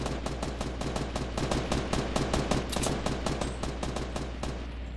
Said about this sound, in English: Someone's shooting with me. Shooting at me.